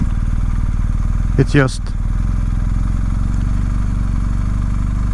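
A BMW 1250 GS motorcycle rolling along slowly gives a steady, close engine drone with a low idle-like rumble throughout, and someone speaks briefly over it.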